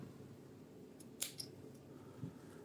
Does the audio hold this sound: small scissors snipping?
yes